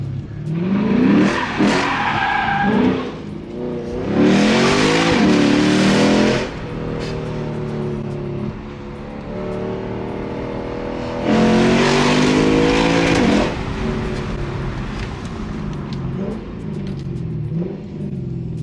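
A loud, raspy car exhaust with the muffler deleted revs hard in two long bursts, with lower rumbling idle and blips between them, close by.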